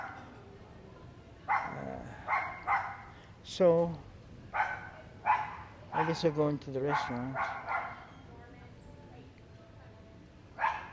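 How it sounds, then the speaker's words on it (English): A dog in a hotel room at the Holiday Inn Resort West Bay barks repeatedly in short bursts, somewhat distant and echoing, while a person speaks briefly nearby. "They got a dog barking here in one of the rooms."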